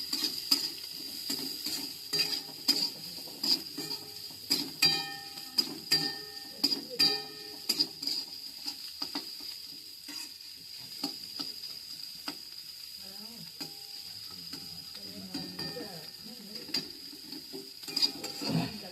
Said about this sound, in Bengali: তারপরে এটাও হালকা সটে করে নেওয়ার পর দেবো হচ্ছে গিয়ে বাকি ভেজিটেবলসগুলো।